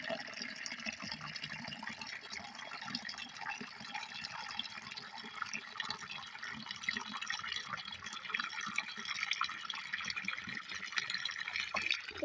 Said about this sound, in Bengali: এই দেখুন আমি পানিটা ভরে নিচ্ছি